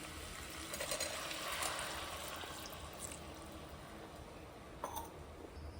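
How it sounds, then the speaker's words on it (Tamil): Mutton stock from pressure-cooked mutton is poured into a pan of kulambu, giving a steady, soft rushing splash with a few brief bubbling accents, fairly quiet and alone. "வச்ச மட்டன் தண்ணியும் ஊற்றிக்கலாம்"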